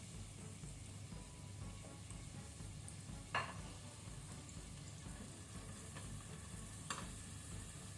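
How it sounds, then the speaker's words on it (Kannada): Chopped onions fry in a pan over a medium flame, a soft, continuous sizzle with two brief stirring scrapes, fairly faint and with no talking. "ಆ ನಂತರ ಆನಿಯನ್ ಈರುಳ್ಳಿ, ಇದನ್ನು ಕೆಂಪಾಗೋ ತನಕ ನಾವು ಫ್ರೈ ಮಾಡಬೇಕು ಮೀಡಿಯಂ ಫ್ಲೇಮ್ ಅಲ್ಲಿ."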